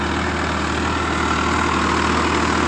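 A Farmtrac 60 tractor hitched to a Shaktiman super seeder runs with a steady, loud, low diesel drone, close by and unbroken, with no voices.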